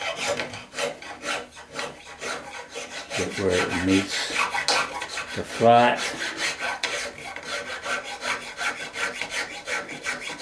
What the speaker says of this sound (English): now I have to do the sanding to get rid of the holes